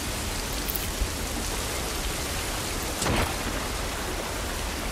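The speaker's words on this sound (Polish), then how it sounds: "No tak, troszeczkę pada." Rain falls outdoors in the video game The Last of Us Part I: a dense, even hiss of downpour, steady throughout, with one brief louder burst near the middle.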